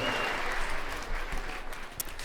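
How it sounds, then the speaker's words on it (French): Concert audience applauding at a live show in Bordeaux, a continuous crowd clapping that stays full and even, with a few sharper claps near the end. "vous pouvez vous applaudir, Bordeaux"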